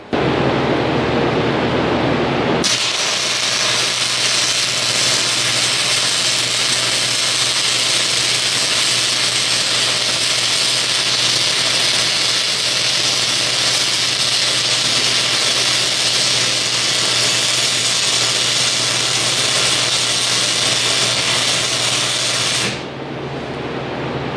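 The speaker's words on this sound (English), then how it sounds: "Thought I would weld these together" Steel pieces for a kinetic log splitter build are welded together, giving a loud, close, continuous crackling hiss. It starts abruptly after a few seconds of hum, holds steady for about twenty seconds, then cuts off.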